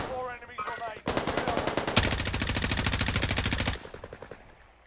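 Rapid machine gun fire in a shooter video game, a dense sustained burst of rounds that runs loud and continuous for several seconds before cutting off, with shorter shots just before it.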